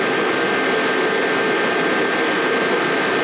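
The 2JZ engine in a swapped Nissan 240sx runs steadily, a loud, unbroken roar with no break or change in pitch.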